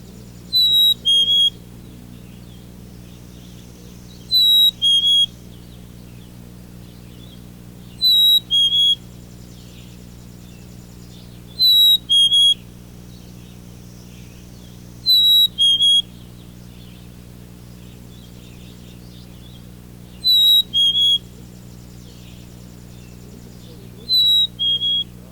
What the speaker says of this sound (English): The chickadee then flies upward to a branch in the hickory tree, and lays claim to his territory with clear, thin whistles.